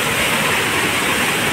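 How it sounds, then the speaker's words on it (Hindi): Dense, steady roar of a waterfall by a Shiva temple at Kapildhara, loud and close, with broadband rushing noise that holds constant throughout. "ये झरना है"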